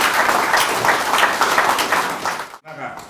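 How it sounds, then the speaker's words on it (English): Audience applause fills a formal awards ceremony hall where achievement rewards are handed over, broad sustained clapping from a large crowd that stops abruptly near the end, followed by a brief voice. "please a round of applause for the presentation tonight"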